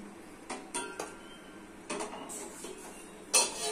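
Metal pot clatters and clinks as eggs go on to boil, several sharp knocks and scrapes spread over a few seconds with a brighter clang at the end, no talk.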